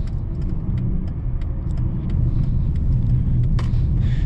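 A 2014 Dodge Challenger's 3.6 V6 with automatic gearbox accelerates, a deep steady engine rumble from inside the car that grows slightly louder, with small rattles and clicks over it.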